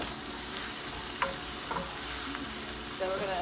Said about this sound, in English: stir this up real good.